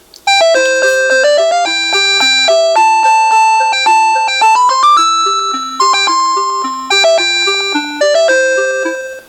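A tinny NuTone LA53 "Sonata" electronic door chime rings out a cheerful, continuous tune, its bell-like notes stepping up and down steadily with no voices present.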